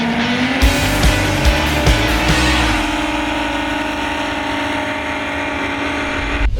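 Bare Knuckles, a pulling tractor driven by a Lycoming 253 jet turbine taken from a Huey helicopter, gives a loud sustained turbine whine with a steady high tone over a heavy rumble, plus rough bursts early on before it settles into a constant roar.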